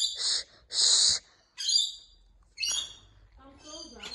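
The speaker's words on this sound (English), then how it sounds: "Look, this is a bird called Rainbow Lorikeet." Rainbow Lorikeets in a backyard give several sharp, shrill screeching calls, with near bursts separated by short pauses.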